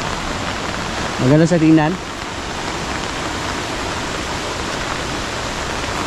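Strong rush of a waterfall swollen after rain, a steady, loud broadband roar that fills the whole stretch, with a brief voice speaking over it near the start.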